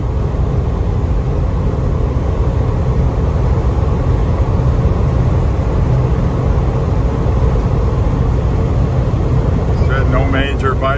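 A 1978 Ford Bronco on the road, its engine droning steadily with constant road and wind roar from inside the cab, loud and unbroken throughout.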